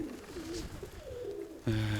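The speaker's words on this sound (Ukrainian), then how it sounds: "Це 18-й голубок." Pigeons cooing in a loft among the birds, low warbling coos that repeat through the clip and swell louder and closer near the end.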